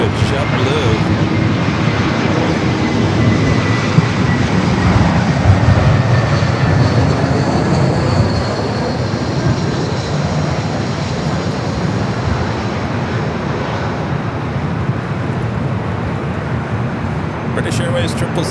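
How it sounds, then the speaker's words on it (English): British Airways Boeing 777 approaching LAX to land on the north side runway, a loud, steady jet engine roar holding at a constant level for the whole stretch, close and overhead with no pauses. "British Airways 777 at 300 yards."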